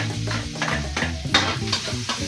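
Garlic sautéing in margarine in a pan, a close sizzle broken by repeated stirring scrapes, with steady tonal music running underneath and no speech.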